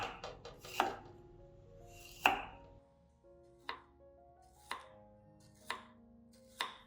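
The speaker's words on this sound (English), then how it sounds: "Next, use a branch of ginger cut into small slices." A knife slices a branch of ginger into small pieces on a cutting board: about a dozen crisp, close chopping strikes, a quick cluster at first and then evenly spaced single cuts, over soft background music.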